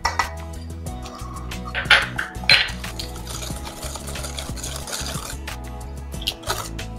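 Chocolate cake batter with vanilla extract is stirred in a bowl, giving close, irregular scraping and clinking of the spoon against the dish, with a couple of sharper knocks partway through.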